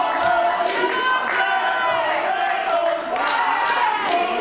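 Wrestling crowd in a Berlin arena, a loud, continuous roar of cheering and shouting that fills the whole clip, with indistinct voices rising and falling within it.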